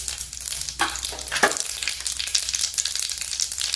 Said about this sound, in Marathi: तेल आपलं तापलेलं आहे पहा याच्यात आपण मोहरी घालत आहोत हे जिरं घातलेलं आहे